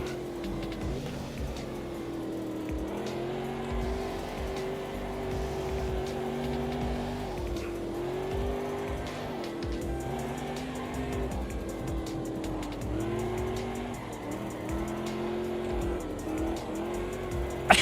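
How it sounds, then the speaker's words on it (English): Engine of a TWR XJS restomod race car in the Automobilista 2 racing game, droning steadily as it laps a test circuit, pitch rising and dropping through gear changes with some tire squeal, loud and continuous with no talk. "go and check out the TWR XJS Resto mod. And just listen to it as it goes around the test circuit."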